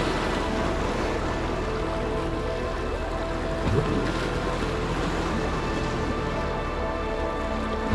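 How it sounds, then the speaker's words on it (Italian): Choppy water laps and splashes as waves break in a continuous, broadband rush, close and fairly loud, with a brief stronger slap midway. "L'acqua è cresposa oggi."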